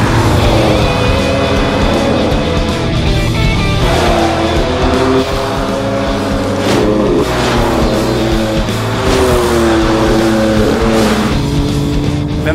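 BMW M4 GTS race car on the Nordschleife, its engine rising and falling through the gears with a sustained loud drone and brief tire noise, heard continuously for several seconds.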